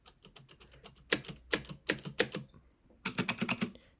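Someone types on an Aukey KM-G12 mechanical keyboard, with crisp, close clacks coming in quick bursts separated by short pauses and ending in a rapid flurry of keystrokes.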